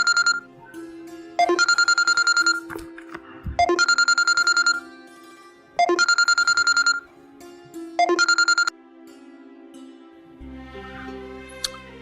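A phone's ringback tone repeats in bursts, each beep pattern separated by short pauses, clear and close, ending in a brief electronic chime.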